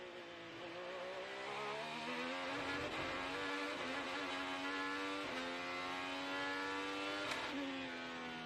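An IndyCar race car engine screams through turns 10-11 at a practice session, its high whine rising and falling steadily through several gear shifts as it holds on through the corner, with no talk.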